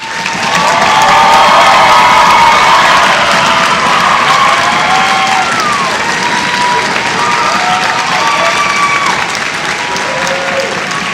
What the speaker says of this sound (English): Let's please give Mr. McIntyre a big applause.